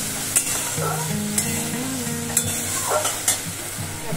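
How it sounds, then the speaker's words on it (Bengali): Spice paste and sauce fry in a pan as a spatula stirs, with sharp scrapes and knocks roughly every second over a soft sizzle and faint tonal sounds in the background. "এই মশলাটা এবারে একটু ভাজা ভাজা হোক"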